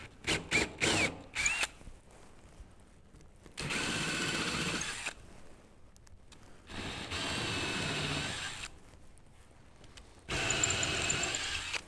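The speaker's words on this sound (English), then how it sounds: "I take this Forstner bit and I drill down each one" A Forstner bit bores dowel-plug holes into an oak conference tabletop. The drill runs in a few short, close bursts, then in three longer, loud steady runs with quiet pauses between.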